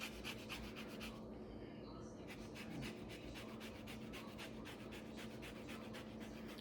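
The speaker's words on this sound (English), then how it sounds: "grate it into the ingredients" Orange peel is grated over cookie ingredients, giving rapid, repeated rasping strokes in a fast rhythm, close and fairly quiet, with a short pause near the start.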